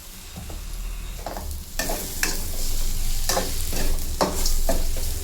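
Spices frying in a pan for a village-style avarekalu and greens bassaru, with turmeric tossed in. Steady sizzle under repeated stirring scrapes, growing louder partway through and continuing close and busy to the end.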